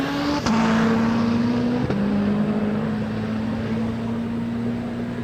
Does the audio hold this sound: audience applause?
no